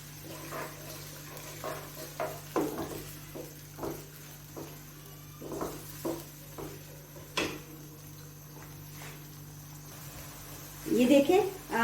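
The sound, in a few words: onions frying and being stirred in a pan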